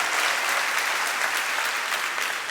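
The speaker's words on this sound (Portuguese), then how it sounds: "Pode dar salva de palmas" A congregation at a church service bursts into sustained applause, dense and steady clapping from many hands filling the room for the whole stretch.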